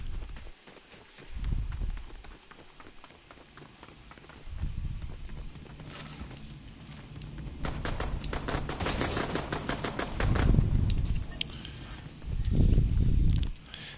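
Shotgun fire in a video game, with loud blasts and bursts of rapid shooting over a rustling, footstep-like game background that rises and falls.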